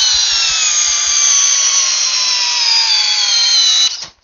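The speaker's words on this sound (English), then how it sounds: "The Skill 529301 drill driver, and it has a fully charged 2 amp hour battery." A Skil 529301 cordless drill driver on a fully charged 2 amp hour battery runs loud and close at a steady, high-pitched whine for about four seconds, then cuts off sharply at the end.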